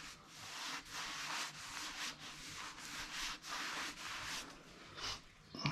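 A cloth wipes down the wood of a refurbished whisky barrel, rubbing in repeated rhythmic strokes that come as soft, close scrubbing swishes separated by brief pauses.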